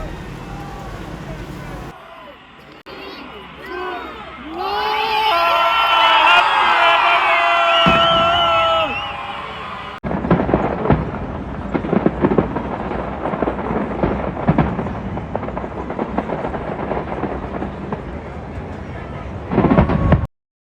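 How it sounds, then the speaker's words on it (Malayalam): New Year fireworks burst over London near the London Eye in dense, rapid booms and crackles. A crowd cheers and voices ring out beforehand, then the loud explosions come one after another in a continuous barrage. "പിന്നെ അങ്ങോട്ട് ഫയർ വർക്സിന്റെ പൂരം തന്നെയായിരുന്നു. പൊട്ടലോട് പൊട്ടൽ."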